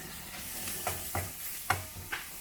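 Ground pork frying in a hot pan, a steady sizzle with a few sharp stirring scrapes and spits at irregular intervals, close and fairly quiet, with no voices.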